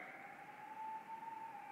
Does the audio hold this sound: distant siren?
yes